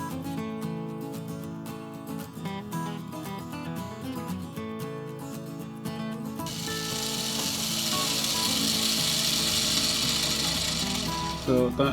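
Wire brush scrubbing over a metal repair to smooth it, starting as a rhythmic scratchy stroking over background music and then becoming a steady loud hissing rasp near the end.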